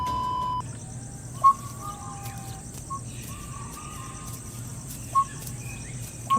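Dholes, Asian wild dogs, whistle to each other in dense jungle: a few short, faint, high whistles come at intervals over a steady insect-like background hum, with no talk.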